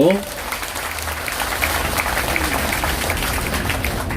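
Audience applause welcoming a guest onto a Korean political podcast, a moderate, even patter of clapping from a small crowd that continues steadily for several seconds after a brief voice at the start.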